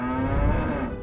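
Longhorn cattle in Texas let out a single sustained, low moo, loud and close, filling the whole moment with no talk over it.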